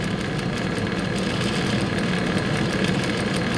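A sewing machine with its thread tension off runs a top stitch along a curved sample, giving a steady motorized whir with faint, rapid, regular needle ticks.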